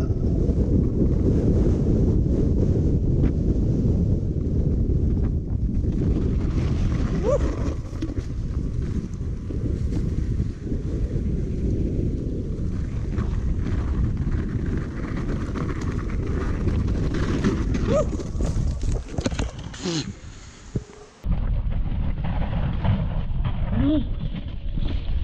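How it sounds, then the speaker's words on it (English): Strong wind buffets a chest-mounted GoPro microphone on a mountain bike trail, a loud, steady rumbling roar that continues throughout with brief dips. "It's really windy up here."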